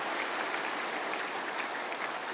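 Applause from a church congregation during a sermon, a brief, even burst of many hands clapping together at moderate distance, with no voices over it.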